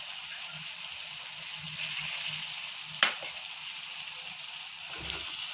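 Chicken sautéing with ground pepper masala in a skillet gives a steady sizzle throughout, with one sharp scrape or clatter of the spatula partway in and a softer stir near the end.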